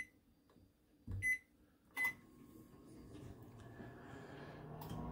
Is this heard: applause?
no